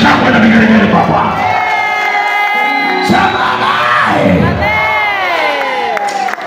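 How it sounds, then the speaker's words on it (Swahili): Church congregation at an Easter service clapping and ululating for the Lord, a loud crowd of cheers, whoops and wavering high ululations that rise and fall together, close and sustained. "Piga makofi ya shangwe na vigelegele kwa Bwana."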